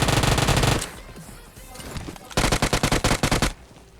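Automatic gunfire from the shooter game PUBG Mobile rattles out in two loud, rapid bursts separated by a quieter stretch, with no talking.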